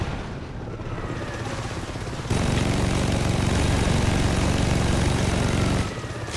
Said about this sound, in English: See, those choppers have rockets on them.